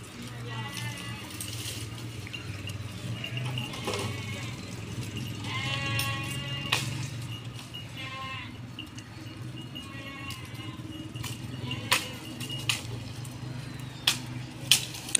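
Goat bleating in a village farmyard, several short calls rising over steady low rumble and someone talking nearby, with scattered clicks and knocks toward the end.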